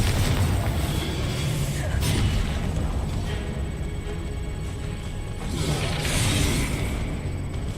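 Repeated Confringo fire-spell blasts in the Hogwarts Legacy video game, heavy booming bursts over continuous low rumble with busy combat effects across the whole stretch.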